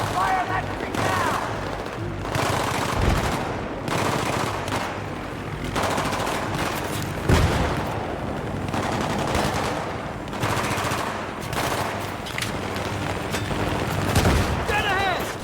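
Sustained machine gun fire in a Battlefield 3 street battle, with dense rapid bursts, booming impacts and explosions running throughout, loud and close, while shouted voices come through the chaos.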